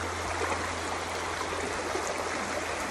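Creek water flows in a continuous, even rush and trickle, close and steady for the whole stretch with no voices.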